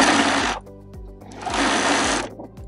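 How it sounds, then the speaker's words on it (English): A sewing machine stitches a fabric tube for a giant scrunchie in two loud, fast mechanical bursts separated by a short pause, with a brief whir at the end. "we'll do a little back stitch at the beginning, and then we just go straight down."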